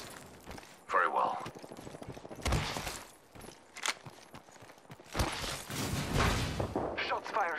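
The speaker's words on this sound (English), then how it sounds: "Shots fired at me." Gunfire in the Apex Legends video game, several rapid bursts of shots and clattering impacts spread across the stretch, loud and close, mixed with game sound effects and a speaking voice.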